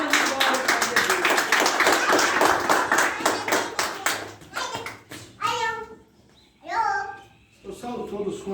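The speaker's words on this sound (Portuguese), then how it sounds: "Receba o servo de Deus com palmas e glória para Jesus." Church congregation clapping in a rapid, even rhythm for several seconds, then stopping as voices take over, with a voice among the speech.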